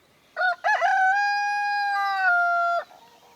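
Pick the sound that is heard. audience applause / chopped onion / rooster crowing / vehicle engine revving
rooster crowing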